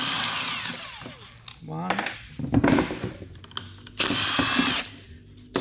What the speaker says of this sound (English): I will remove these two 12 millimeter bolts